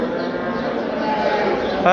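Busy livestock market with cattle among the crowd, a low moo-like murmur of animals running steadily beneath continuous nearby chatter and bargaining voices.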